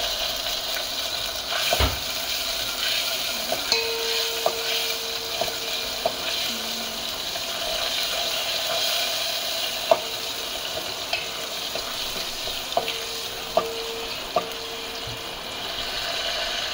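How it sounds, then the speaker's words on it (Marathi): Cumin seeds tempered in hot oil in a pan, a continuous fizzing sizzle with scattered sharp pops and crackles, plus a few brief metallic clicks and a faint tone, no voices. "आणि जिरं चांगलं तडतडलं"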